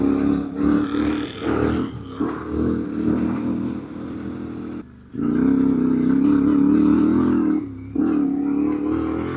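A group of motorcycles passes on a bush trail, their engines revving and rising and falling in waves, loud and close, with a brief lull midway before more bikes roar by.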